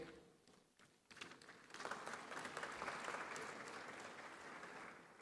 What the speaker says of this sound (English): put your hands together as I welcome on stage our panel of speakers